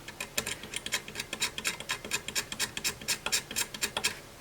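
A corroded circuit board track inside a Powershield Centurion 3000 UPS is scraped with about two dozen short, rhythmic rasping strokes close up, steady and alone.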